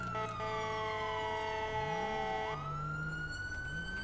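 An ambulance siren in GTA V wails steadily at close range, holding a long tone before switching into a faster rising and falling sweep, loud and continuous throughout with no talking.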